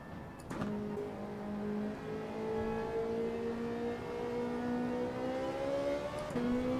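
Race car engine in the Gran Turismo 7 video game, a steady sustained drone with smoothly rising pitch as the car eases off and coasts into a corner, loud and continuous with no talk.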